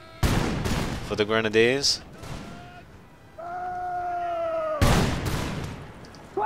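Musket volleys in Empire: Total War, two heavy booming crashes of massed gunfire, one at the start and one near the end, each rolling off in a decaying rumble, with someone talking between them.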